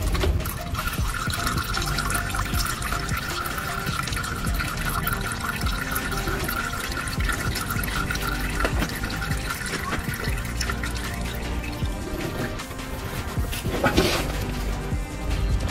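Engine oil draining and dripping from around the oil filter of a Ford Fiesta during an oil change, a continuous close liquid trickle with faint splashing throughout, no speech.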